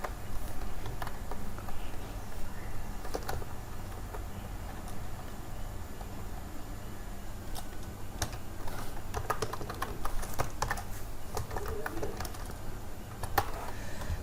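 Computer keyboard clicking as code is typed into RStudio, a quick irregular patter of keystrokes near the microphone over a low steady hum, with no talking.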